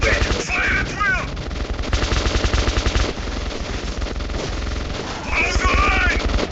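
Sustained machine gun fire in the shooter game Metro 2033 Redux, loud rapid bursts crackling continuously, with shouting voices breaking through near the start and end.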